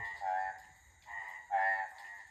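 Three nasal frog croaks after rain in a slow rhythm, close and fairly quiet, with near-silence between them.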